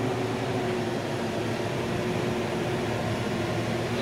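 Steady broadband mechanical roar of a 7-foot Sitrex disc mower running, a dense, even drone with a faint low hum, constant from start to finish with no voices.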